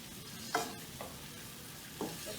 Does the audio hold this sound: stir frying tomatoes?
yes